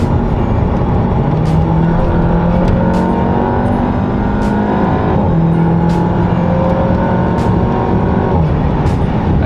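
Golf 7 GTI Clubsport engine pulling hard under acceleration, a loud continuous drone with rising and falling rev sweeps and brief shift breaks, heard from inside the car with no talk.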